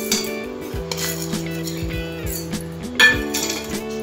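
Dry lentils clinking and rattling as they pour into a small steel mixer-grinder jar in a home kitchen, a busy run of light clinks with a louder clatter near the end and no talk.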